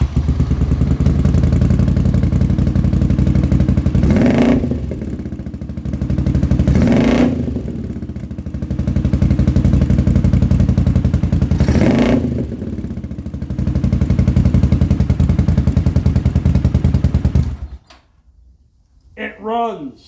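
A Honda GL500 motorcycle engine runs after a carburetor repair with its float needles swapped back, giving a steady, loud, close mechanical drone with a few brief surges, then cutting off near the end.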